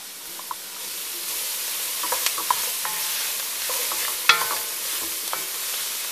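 A gumbo roux sizzles in a heavy pot while a utensil stirs it, steady frying hiss with scattered scrapes and light taps against the pot, close up and without talk.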